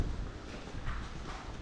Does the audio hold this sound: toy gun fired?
no